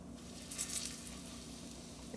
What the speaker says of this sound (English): I have my oil nice and hot in this cast iron skillet, and I'm gonna go ahead and add our patties